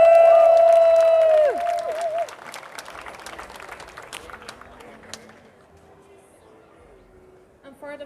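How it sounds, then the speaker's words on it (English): Audience applause and cheering for a cosplay contestant at a DreamHack 2019 cosplay and casemod contest, loud at first with a tonal music sting, then settling into steady clapping that fades toward the end. "Applause."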